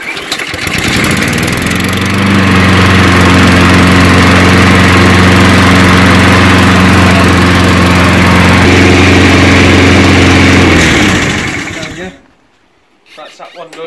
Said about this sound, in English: I can put that on the other mower I've got, which I'm running